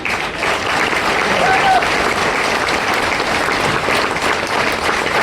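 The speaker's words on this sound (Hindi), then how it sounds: "एक बार मानसिक जी के लिए जोरदार ताली" Loud, sustained audience applause fills the whole stretch at a motivational seminar, a dense steady wash of clapping with a faint voice underneath.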